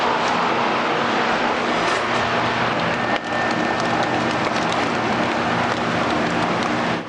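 A crankshaft spins on a balancing machine at 500, giving a loud, steady, broadband mechanical whir with a low hum that holds unbroken throughout, with no talking.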